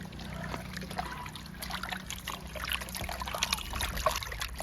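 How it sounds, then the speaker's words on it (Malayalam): Water trickles and splashes steadily as meat is washed clean for tapioca biriyani, a continuous close, soft running-water sound with small splashes and no talk. "നല്ലപോലെ വൃത്തിയായിട്ട് നമുക്ക് കഴുകിയെടുക്കാം"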